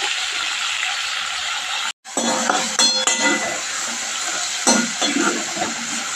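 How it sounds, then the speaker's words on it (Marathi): Onion and tomato dropped into hot oil for a brinjal curry, giving a steady loud sizzle throughout, briefly cut off around two seconds, with a few metallic clinks of utensils against the pan. "तेलामध्ये कांदा टोमॅटो घालायचे."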